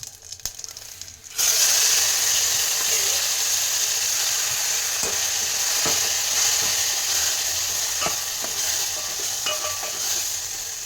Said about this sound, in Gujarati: ત્યાર પછી આપણે વઘાર કરશું.